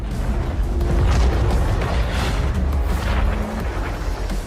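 Explosions and collapsing structures in the Crackdown 3 video game, heard as a continuous loud rumble of booms and crashing debris with no pauses.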